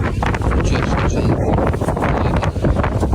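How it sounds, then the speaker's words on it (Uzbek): Strong wind gusts through an outdoor market in Kokand, buffeting the microphone with loud, continuous rumbling roar and flutter that surges and dips. "Shamol Qo'qonda."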